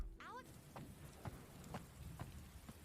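Rain falling in an episode of the animated series RWBY, a faint steady hiss of rainfall with a few soft drop-like ticks, after a brief voice at the very start.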